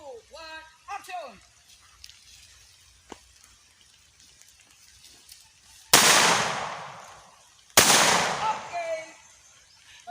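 Two sharp, loud gunshot blasts about two seconds apart ring out on a film set, each with a long noisy decay, after a call to start and some chatter.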